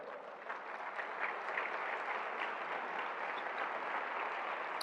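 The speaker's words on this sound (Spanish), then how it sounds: "da un aplauso al Señor" A church congregation applauds for the Lord during a Spanish-language sermon, a soft, even wash of clapping that stays constant throughout, heard from some distance.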